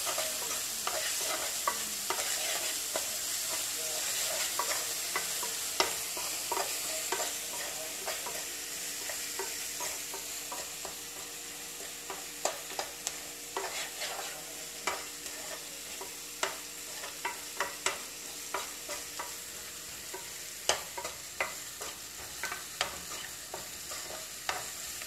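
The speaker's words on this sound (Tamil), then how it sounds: "இப்போது இது எல்லாத்தையும் நல்லா சேர்த்து வதக்கிடுங்க." Turmeric and ginger-garlic paste sizzle in a hot pan for tomato rice, a steady frying hiss broken by frequent scraping and tapping of a stirring utensil, close and continuous with no voices.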